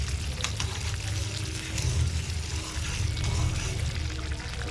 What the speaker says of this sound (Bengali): দিয়ে দেবো এই যে 1 চামচ একটু জিরের গুঁড়ো